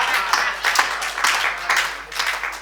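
An audience applauds a Hindi comic poetry recital, a steady patter of many hands clapping with small swells, filling the short stretch without talk.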